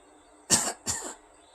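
Two quick coughs in a row, short and close, with a brief pause between them against a quiet background.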